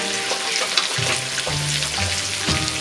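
Carrots stir-frying in a pan for homemade fried noodles, a steady loud sizzle with scraping spatula stirs and low clunks of the utensil against the pan, no talking.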